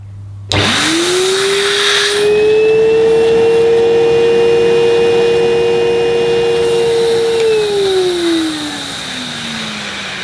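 An Electrolux The Boss Super Lite vacuum cleaner starts up and runs with a loud, steady motor whine, holding pitch for several seconds before spinning down near the end.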